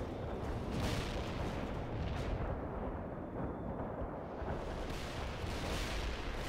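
Continuous dense barrage of distant rocket battery fire in the World in Conflict Soviet Assault Battle of Berlin, a steady rumbling roar of overlapping launches and impacts with no pauses.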